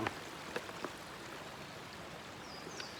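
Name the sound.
walking across a limestone stream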